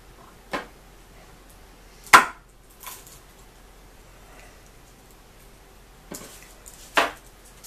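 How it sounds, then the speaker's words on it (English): A knife slicing the tips off garlic cloves on a board: a few sharp, separate chops spaced irregularly across several seconds, close and clear over a quiet background. "just about finished cutting the tips off the garlic"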